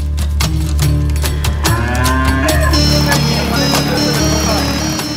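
Cattle, including Limousin, Simmental and local breeds, moo at a makeshift roadside cattle market along a busy road in Indonesia, with several loud drawn-out lows over traffic rumble and a constant background din.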